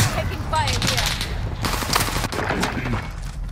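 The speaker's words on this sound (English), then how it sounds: "Taking fire" Dense video-game gunfire in a tactical shooter, continuous rapid bursts and shots crackling loudly throughout, with a voice talking over the barrage.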